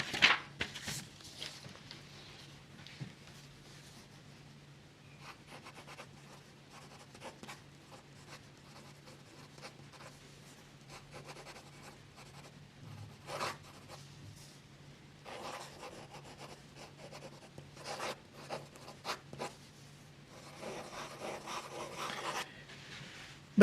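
Monteverde Monza fountain pen fitted with an Omniflex nib writing on paper, a soft, continuous scratch and rub of nib on paper with short pauses between strokes, close and fairly quiet throughout.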